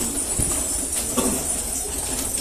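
Pigeons coo and flutter their wings at a pigeon-selling café market in Gaziantep, Turkey, a soft, continuous bed of bird noise and crowd murmur with a few louder wing flaps.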